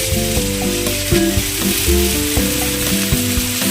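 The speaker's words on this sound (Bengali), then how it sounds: "তো বেগুন, মূলার ডাঁটা আর আলু অ্যাড করে দিল" Eggplant, radish stems and potato sizzle loudly in a pan, a strong close hiss broken by frequent stirring knocks and scrapes, with no speech.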